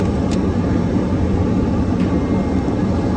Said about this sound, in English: Time to make a very soft and very smooth landing, especially with this patient that we have on board.